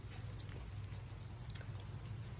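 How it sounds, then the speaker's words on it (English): Steady rain falls outside in a soft, continuous patter, with light scattered drops over a low rumbling background and no voices. "it's been raining here for at least 4 hours today"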